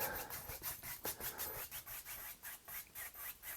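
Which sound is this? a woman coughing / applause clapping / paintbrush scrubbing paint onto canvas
paintbrush scrubbing paint onto canvas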